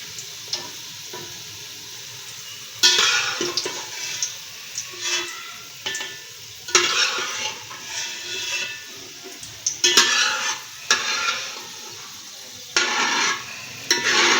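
Onions for chicken biryani fry in a pan with a soft, constant sizzle, broken every second or two by louder stirring scrapes against the pan.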